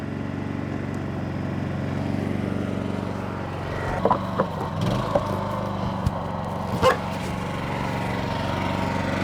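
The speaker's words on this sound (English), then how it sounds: "the generator obviously just kicked up a gear then" A Honda generator runs under load from a caravan battery charger, its steady engine drone holding throughout with a few clicks and knocks around the middle, and no voices.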